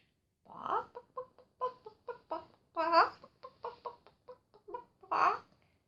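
A hen clucks in a quick series of short, close clucks, with a few louder drawn-out squawks mixed in, alone in a quiet setting.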